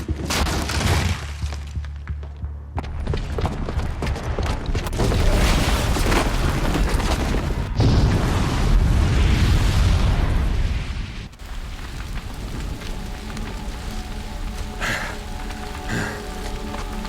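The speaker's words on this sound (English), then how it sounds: "the booby trap on the bomb downstairs is gonna get set off" A booby-trapped bomb blows up in the video game Horizon Zero Dawn, giving a long, roaring blast with rumbling debris and crackling that dies down into quieter ambience and a few distant thuds.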